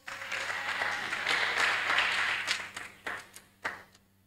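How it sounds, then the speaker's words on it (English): A congregation at a Friday night church vigil service claps in a sustained burst that swells, then thins into a few scattered, separate claps as it fades. "Let's give Jesus a round of applause."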